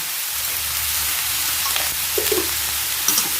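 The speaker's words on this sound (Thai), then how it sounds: "ผัดเลยค่ะ" Cabbage with fresh shrimp being stir-fried in a pan gives a steady, loud hiss of sizzling throughout, with a few scraping stirs toward the end and no talk.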